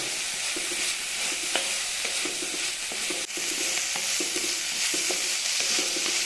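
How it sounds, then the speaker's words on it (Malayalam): Ginger garlic paste sizzles steadily in a pan for a Chettinad-style chicken dry roast, with a spatula scraping and tapping in a loose rhythm all the way through. "ഇതിൻ്റെ ആ ഒരു റോ ടേസ്റ്റൊക്കെ പോണ വരെ നന്നായിട്ടൊന്ന് വഴന്ന് വരട്ടെ"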